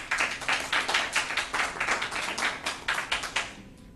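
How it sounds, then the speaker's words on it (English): An audience at a city council meeting claps in a quick run of sharp, uneven bursts, fairly close and filling the whole moment before tapering off. "They were applauding for you, Pinky."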